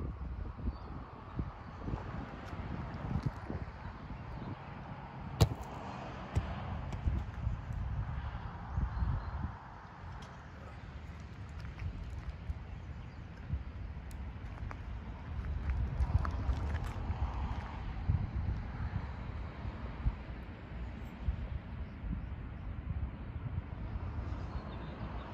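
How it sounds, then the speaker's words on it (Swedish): Steady wind gusting outdoors, a constant low rumble and rush buffeting the microphone for the whole stretch, with a few faint knocks and no clear talk. "Det är blåsigt nästan."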